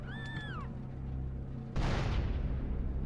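A bomb detonates in GTA San Andreas with one sudden loud blast that dies into a rumbling tail, following a short electronic whine and low steady game hum.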